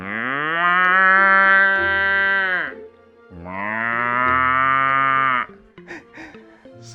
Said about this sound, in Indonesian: Suara sapi begitu keras.